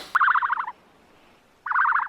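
Two bursts of harsh, rapid, pulsing ostrich calls separated by a short silence, loud and close, with no voices.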